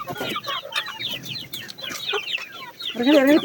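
A flock of backyard chickens, including a naked-neck hen, clucks busily at feeding time near an egg-laying setup, with a chorus of close, choppy calls building to a louder, drawn-out squawk at the end.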